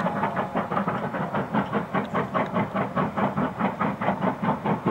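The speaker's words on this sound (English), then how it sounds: "back of the train is just coming onto the viaduct, so you can see the length of the train." A long train rolls across a viaduct on the Ji Tong line in China, its wheels beating out a steady, rhythmic clickety-clack at moderate distance, evenly paced for several seconds with no voices.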